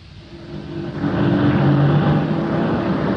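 A taxi engine effect from an old-time radio comedy rises in a steady drone, revving up and holding loud and near, with no talk over it.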